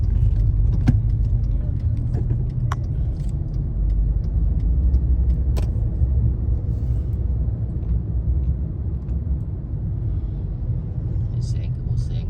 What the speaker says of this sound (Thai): มีรถใหญ่จะแซงให้มันไปก่อนเอาไปนำหลัง